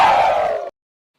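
A single loud, brief Ric Flair-style "wooo" yell from a voice imitating the wrestler's trademark shout, cut off abruptly.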